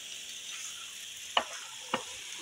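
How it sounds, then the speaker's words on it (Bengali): Meat cooking in a pan over an outdoor fire at a village picnic: a faint, steady sizzle with two sharp clinks of a utensil against the pan partway through. "মাংস রান্না করা এখনো চলতেছে, শেষের পথে রান্না করা"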